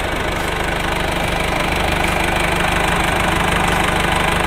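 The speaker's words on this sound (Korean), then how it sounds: "엔진 소리도 일정합니다." A Mercedes-Benz ML250 BlueTec 4MATIC diesel engine idles at close range with a steady, even rumble and a faint rhythmic ticking, no voices.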